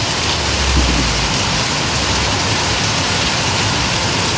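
A steady downpour of heavy rain over Deglur town, loud and continuous close hissing spatter with a faint low rumble early on, no speech.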